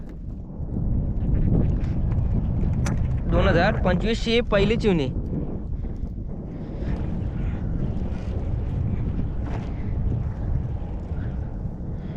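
Strong outdoor wind buffets the microphone with a loud, continuous low rumble near a taut net, while people talk over it.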